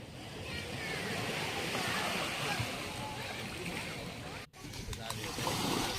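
Sea waves wash onto a beach on Koh Chang, Trat, in front of a coconut-palm resort, a continuous surf rush with a brief dip midway, while someone talks over it.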